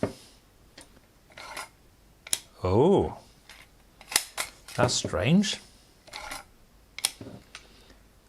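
A Purma Special (first model) gravity camera fires its shutter several times, each a sharp mechanical click or short whirring snap, with a person talking between releases.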